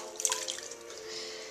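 Water drips and splashes softly in a tub during a baby's first bath, a few light irregular drops over a steady faint background hum.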